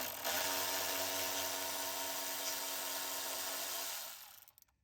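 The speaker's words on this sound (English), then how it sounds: "take these bolts out." A power tool whirs steadily, close and continuous for about four seconds, while bolts come out of a 2024 Toyota Tacoma during a side step installation, then it winds down and stops, with no talk.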